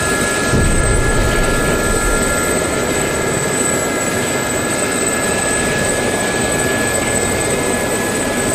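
Steady, dense engine and rotor drone of an aircraft, heard continuously and loudly without letup in DCS World combat flight simulation, where a helicopter is flying.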